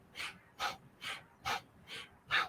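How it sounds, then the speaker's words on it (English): Slow, deliberate yoga breathing, with six soft rhythmic in-and-out breaths heard close up and evenly spaced, between near silence. "Inhale, exhale."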